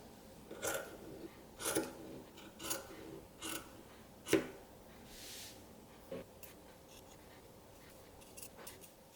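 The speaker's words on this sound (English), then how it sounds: "Now I'm going to cut." Scissors snip through sweater fabric during hand sewing, a series of separate soft crisp cuts spaced about a second apart, close and quiet against a hushed room.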